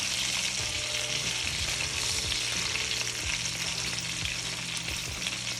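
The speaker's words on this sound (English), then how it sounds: "So I'm gonna fry those in the next batch" Chicken pieces for Jamaican brown stew frying in oil give a dense, continuous sizzle and crackle, close and steady throughout, with low clatter from the pan underneath.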